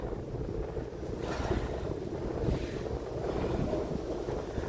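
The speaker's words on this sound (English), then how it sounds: "It's getting windy." Blustery winter wind buffets the microphone in rolling gusts on a Toronto street, a low rumbling roar that swells and fades outdoors with no one speaking.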